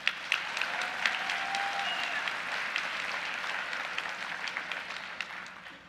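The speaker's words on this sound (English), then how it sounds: "Round of applause for them, please." An audience at a winter graduation ceremony gives a round of applause for support staff, a steady crowd of clapping with a few louder individual claps that gradually thins toward the end.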